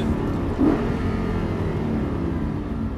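A car accelerates on the racing circuit at Dreux during a driving course, a close, steady engine rumble and whir that builds slightly as the throttle opens, heard on its own without talk.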